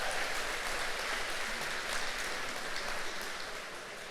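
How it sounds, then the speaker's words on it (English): Sustained applause from a morning Rotary breakfast audience at a city event, a steady dense patter of many hands clapping throughout with no voices over it. "Let's give them a round of applause for that."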